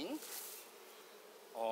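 Steady, close buzzing of bees continues throughout, droning evenly with a slight rise at the end.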